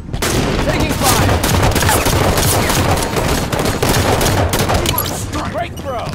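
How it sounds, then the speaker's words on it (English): Dense, continuous rapid gunfire with overlapping shots and booms from an online team duos match of Halo 5: Guardians, loud and sustained throughout. "Sniper rifle at the ready. Taking fire."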